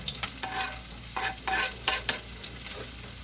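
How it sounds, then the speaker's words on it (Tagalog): Onion dropped into a pan of frying garlic for ginisang upo, a steady close sizzle with repeated scraping stir strokes over it. "So, after yung bawang natin, ay ihuhulog naman natin ang ating onion."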